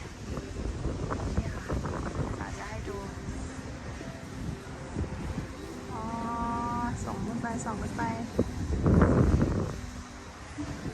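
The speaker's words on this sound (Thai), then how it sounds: "ลมจะแรงมากเพื่อน" Strong wind in a wheat field near electricity-generating wind turbines in Germany: gusts buffet the microphone unevenly, rising in a loud burst near the end, while a person talks over it.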